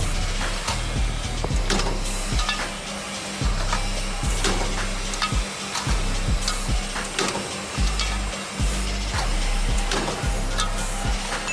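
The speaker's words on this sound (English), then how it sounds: "automatic 2 inches 1C and V roll forming machine" An automatic combined 2-in-1 C and V profile roll forming machine runs steadily with a low mechanical drone, broken by repeated sharp clanks and knocks at irregular intervals.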